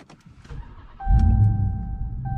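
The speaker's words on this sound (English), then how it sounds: "let's start it up and yeah, let it run." A 2023 Ram TRX 1500 pickup's V8 engine cranks and catches, settling into a deep, steady idle rumble with a faint whine on top; close and fairly loud, no talking.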